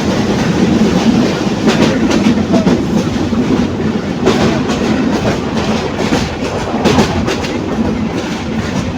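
A local train runs through rural North Bengal, heard from inside as a loud, continuous rumble with rhythmic clickety-clack of wheels over rail joints and occasional sharper knocks, with no voices.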